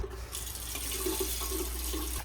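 Water runs steadily from a newly installed tap into a bathroom sink, with a broad, close hiss and a low rumbling undertone, heard alone with no talk.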